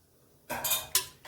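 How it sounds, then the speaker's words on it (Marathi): A spoon working through biryani rice mixed with oil, bay leaves, caraway, salt and lemon juice, a couple of short metallic scrapes and clinks against the pot after a quiet start, close and fairly soft. "हलक्या हाताने हे मिक्स करायचं"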